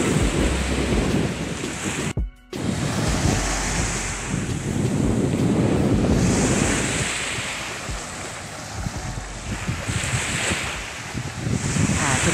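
Strong wind roars steadily across Jomtien beach in Thailand, buffeting the microphone loudly while surf washes in underneath, with a brief dropout partway through.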